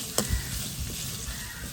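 Ginger and garlic sauté gently in a pan over a low flame, giving a soft, steady sizzle with one quick clink of a utensil near the start.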